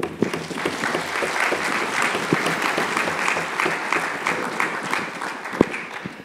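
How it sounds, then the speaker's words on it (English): Lecture audience gives a steady round of applause, a crowd of clapping hands at moderate loudness with a few sharper individual claps standing out, and no talk over it. "And I want an applause for that."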